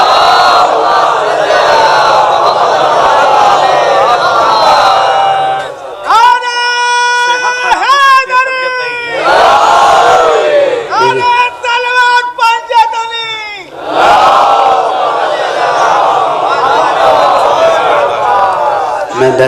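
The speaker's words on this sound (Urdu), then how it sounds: "ایک اور بلندر صلوات پڑھیں۔" A large crowd at a religious gathering chants salawat loudly in unison, bursts of massed voices rising and falling between stretches of a single speaker addressing them.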